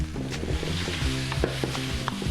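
Vegetables sizzle steadily in coconut oil in a pan, with a constant close frying hiss broken by the soft scrapes of stirring, and no voices.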